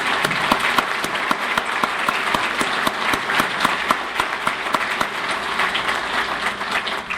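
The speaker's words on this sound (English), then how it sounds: "I'd just like a round of applause for Paul Becker" An indoor audience at the 100 Club of DuPage County Award of Valor ceremony applauds a fire service leader, a steady stretch of dense, close clapping that holds for several seconds without talking.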